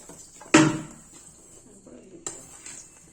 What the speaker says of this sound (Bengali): এই চিনি, সুজি, নুন, ময়দা এই সব উপকরণগুলোকে আমরা আবার ভালো করে মিশিয়ে নেব।